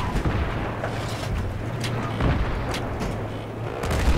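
Battlefield 3 video game gunfire and artillery-like booms rumble continuously, dense and loud, with sharp bursts scattered through a low droning background.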